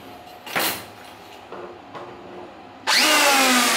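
After a few faint clicks and knocks, a Japanese 450W, 100V electric planer with an 82 mm blade switches on and spins up into a loud, steady motor whine close by.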